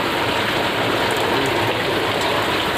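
Heavy monsoon rain pours steadily around a house flooded with water, a dense, loud, unbroken hiss with no pauses.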